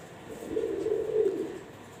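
Teddy pigeon hen gives a single soft, low coo, rising and falling over about a second and a half, close and fairly quiet against faint background hiss.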